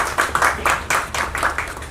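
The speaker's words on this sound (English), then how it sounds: "A big round of applause." Applause from a modest audience at a hotel event, heard as uneven bursts of hand claps rising and falling in pulses, fairly close and without talk.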